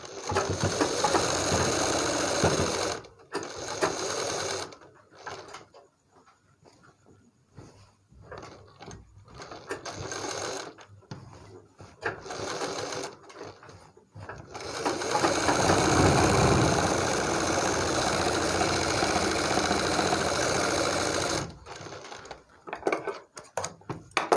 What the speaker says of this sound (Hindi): पूरी सिलाई यहाँ से लेके और यहाँ तक लगा देंगे